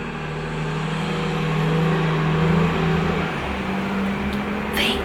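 A bus driving past on a street, engine drone swelling as it nears and then fading, a steady loud rumble with a brief higher squeal near the end.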